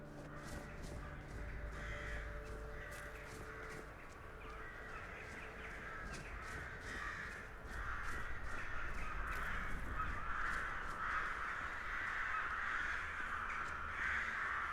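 Crows caw in the video game Skyrim, with several harsh calls repeating irregularly at a moderate distance over a soft, steady background ambience and a low musical drone.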